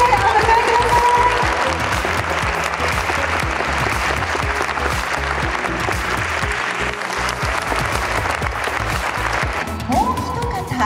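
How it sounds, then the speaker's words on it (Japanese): Sustained applause from a large audience welcoming two Olympian and Paralympian guests, table tennis star Jun Mizutani among them, onto a talk show stage, loud and steady throughout with a faint tone entering near the end. "どうぞ盛大な拍手でお迎えください"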